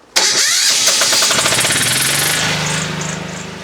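An engine cranks and roars to life abruptly, loud and close, its rapid sputtering rhythm settling into a steady idle hum.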